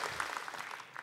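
Studio audience applauding a singer on a television show, a brief burst of steady, moderately distant clapping with no talk.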